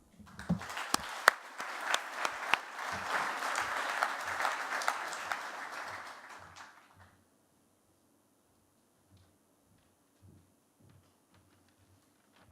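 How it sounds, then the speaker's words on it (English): Conference audience applauding Liz Truss at a plenary session in London, a burst of crowd clapping that builds then tapers off after about six seconds into near silence with faint knocks and shuffles. "let's give a big round of applause for Liz Truss"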